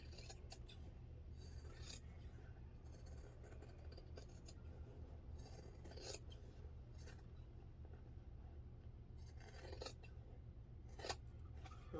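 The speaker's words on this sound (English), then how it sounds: "clip into the curves without snipping through your thread" Scissors snipping into the curved seam allowance of a fabric crossbody bag, a series of soft, close, irregular clips over faint background hiss.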